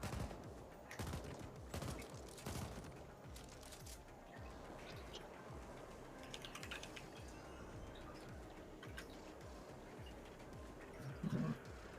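Gunfire rattles through the sci-fi shooter video game The Ascent, repeated sharp shots and short bursts at moderate distance over a steady ambient bed, with one dense volley early and scattered pops afterward.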